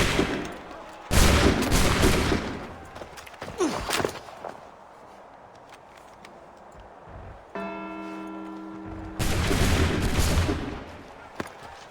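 A ragged volley of musket fire in Assassin's Creed 3 bursts out loudly, then another heavy blast follows later, separated by quieter stretches with a brief tonal chime in between.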